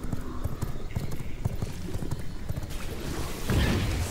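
Hoofbeats of a horse in a video game set in a cursed swamp, a quick irregular clip-clop with a brief whinny, under faint game ambience and a voice talking.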